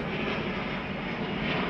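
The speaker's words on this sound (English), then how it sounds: "Hold on, there's a plane." An airplane drones overhead in a loud, constant engine roar that holds steady throughout with no talking.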